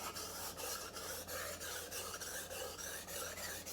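A dull steel knife is ground flat on a sharpening stone to raise a burr, with rhythmic rasping strokes repeating roughly every third of a second, close and steady, with no talking.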